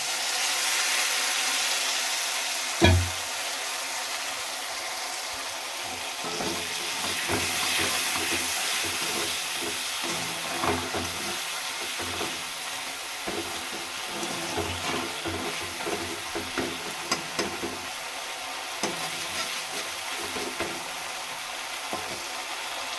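A pan fries steadily after salt and water are added, a continuous hiss and sizzle with a sharp clank early on and scattered stirring scrapes throughout.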